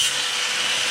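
Rivets being ground out of the frame of a 1931 Ford Model A, heard as a close, steady, harsh abrasive rasp that holds evenly through the short clip with no talking.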